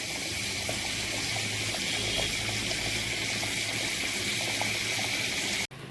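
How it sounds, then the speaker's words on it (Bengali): Meat curry bubbles as it simmers in a pan, a close, continuous burbling with soft pops and a low steady hum underneath, cut off abruptly near the end. "দেখো টকবক টকবক করছে"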